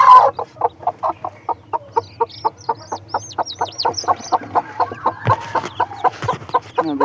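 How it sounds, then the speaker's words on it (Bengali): A hen clucks in a steady rhythm of short, repeated calls while feeding her chicks, with faint chick peeps mixed in; the calls are close and fairly loud, and no one speaks. "এই যে মুরগিটা দেখি বাচ্চাদের খাওয়ায় কিনা"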